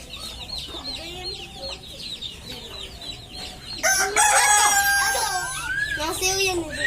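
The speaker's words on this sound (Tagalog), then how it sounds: "Ito naman po ang sisiw." Chickens on a farm crowing and clucking, with a rooster crowing loudly from about four seconds in over busy background clucking, while people talk nearby throughout.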